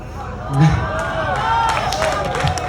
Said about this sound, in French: On l'applaudit justement.